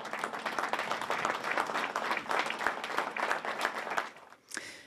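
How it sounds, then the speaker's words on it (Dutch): A crowd gives healthcare workers a long, sustained round of applause on the Belgian national day, 21 July, including on the Westerpier in Ostend: dense steady clapping with occasional louder claps, fading briefly near the end. "Het wordt één langgerekt applaus voor de zorg."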